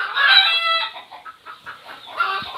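Native hens cluck close by in a rapid series of calls, loud at the start, softer through the middle, then swelling again near the end.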